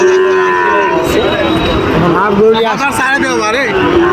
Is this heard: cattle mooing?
yes